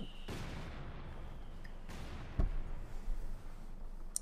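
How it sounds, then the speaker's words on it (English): Mortar fire in the real-time strategy game Company of Heroes 2, with one sharp thumping blast midway followed by a rumbling tail and smaller scattered impacts amid steady battlefield noise. "lot of continued mortar fire from both players"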